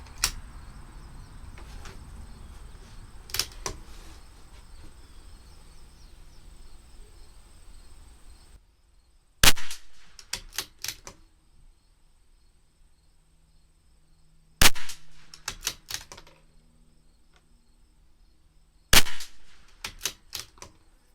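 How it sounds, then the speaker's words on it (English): A CZ 457 LRP rifle with an IBI barrel firing CCI Standard Velocity rimfire ammunition: sharp, dry cracks spaced several seconds apart, each with brief trailing clicks of the bolt cycling, over quiet outdoor ambience. "Group number 1, 5 shots."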